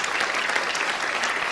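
Sustained clapping from a Dr. Phil studio audience fills the moment, a broad continuous crowd applause with no pauses or voices standing out.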